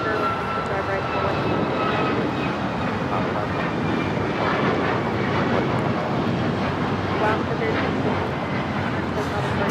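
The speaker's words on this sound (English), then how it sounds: "1353 taking off to Guatemala City on the MAX 8" An Alaska Airlines Boeing 737 MAX 8 takes off from LAX, a steady, loud roar of jet engines holding level throughout with no break.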